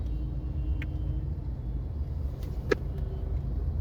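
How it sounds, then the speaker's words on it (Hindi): Cars and other vehicles stuck in a traffic jam, a low steady engine rumble nearby with a brief higher sound from passing traffic partway through. "पीछे भी गाड़ी आ रही है हमारे"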